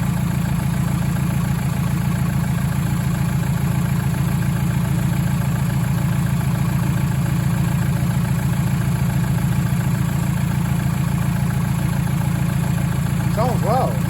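A 1990s Ford Transit with a 2.5DI turbo diesel engine runs at a steady idle throughout, close and constant, with a low rumble and a faint voice near the end.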